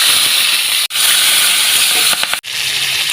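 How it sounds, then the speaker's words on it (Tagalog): Beans fry in a pan with a loud, continuous hissing sizzle up close, interrupted by two brief silent gaps and a few light clatters near the end. "Sunod naman natin iprito ay beans."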